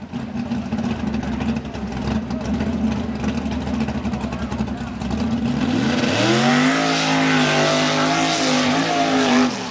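A Chevrolet mud bog truck engine roaring at a mud bog event, loud and sustained, with the pitch climbing steadily as it revs hard through the pit.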